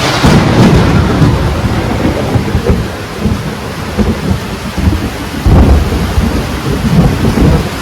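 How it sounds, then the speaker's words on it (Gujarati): Close, heavy rain pours steadily while deep thunder from a lightning strike rolls and booms through it, loud and sustained with no talking. "વીજળી પડી મિત્રો, જબરદસ્ત વીજળી."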